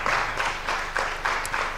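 Audience applause fills a conference hall at an East Africa waste-management event: a dense, steady wash of many hands clapping for nearly two seconds, with small swells in intensity and no speech over it.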